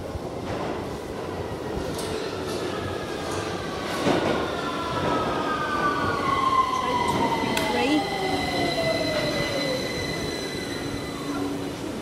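A London Underground Victoria Line train pulls into platform 4 at King's Cross St Pancras, with long sliding wheel squeals and rail screeches over a steady rumble, close by, and a voice heard faintly in the background.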